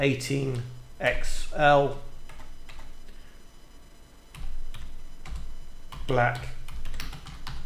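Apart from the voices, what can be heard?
typing on a computer keyboard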